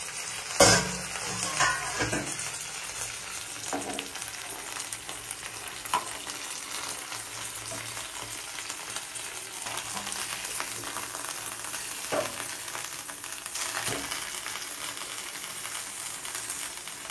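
Koi fish paturi frying slowly in a nonstick pan, giving a continuous soft sizzle with occasional scraping and clinking of a utensil, close and steady, with no one talking.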